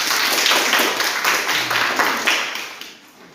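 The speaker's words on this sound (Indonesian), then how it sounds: "Mari kita tepuk tangan untuk kelompok" Classmates in a school setting clap for a student group, a fairly small crowd producing loud, slightly rhythmic applause that fades away toward the end, without talking.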